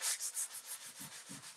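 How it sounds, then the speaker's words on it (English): Foam sanding sponge rubbed over the cold, painted edges of a furniture piece with WUB trim, giving a steady series of close, soft scratchy strokes about every fifth of a second. "So I'm just grabbing my sanding sponge from Dixiebell and just kind of go"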